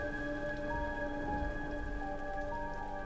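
Heavy rain pours steadily in a stormy night scene, a continuous dense hiss with no break, heard alone under a faint sustained musical drone.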